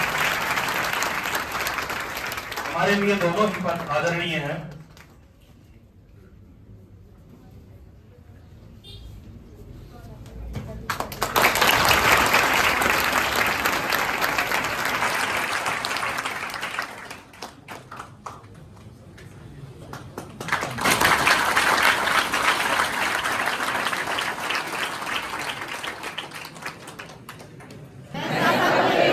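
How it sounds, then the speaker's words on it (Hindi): Loud sustained clapping from an audience at a welcome event at a coaching institute, rising in long bursts that fade into quieter stretches where someone speaks, then swelling again into dense applause. "जोरदार तालियों से इनका सम्मान किया जाए"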